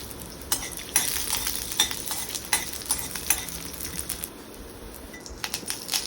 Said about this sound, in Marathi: आता मी इथे अर्धा चमचा तेल घेते आणि त्यात मी आठ ते दहा लसणाच्या पाकळ्या भाजून घेणार आहे